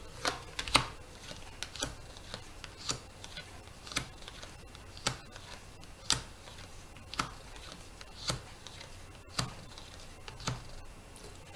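A deck of playing cards being cut and shuffled at a table, with a steady run of crisp, close riffling snaps and flicks repeating about once a second, with no talk over them.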